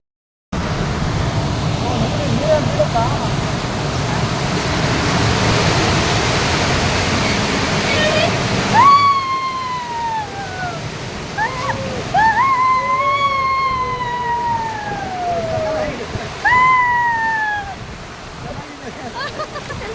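Water gushes loudly at a water park with a broad rushing roar, then drops away, leaving excited voices and high squeals.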